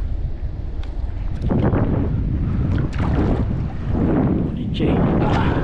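Strong wind buffeting the microphone at sea during a fishing trip in stormy monsoon weather, a continuous loud low roar with surging gusts and water noise, with a few faint voices.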